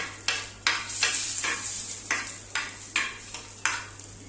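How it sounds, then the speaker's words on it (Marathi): Almonds, cashews and raisins fry in ghee in a pan while being stirred, making a steady close sizzle broken by about eight regular scraping strokes of the spoon, with no talking. "तूप घातलां आनी तेचेर घालता, मातशें तें भाजुया।"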